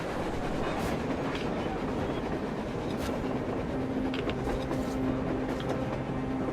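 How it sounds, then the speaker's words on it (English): A train runs on the surface in the video game Metro Exodus, rolling along in a steady rumble with clickety-clack rail rhythm and occasional metallic squeals, fairly close and continuous, with no talking. "A train! A damn train on the surface!"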